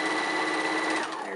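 A sewing machine runs a quarter-inch seam across a circle-on-square appliqué quilt block, a steady close whir lasting just over a second before slowing at the end.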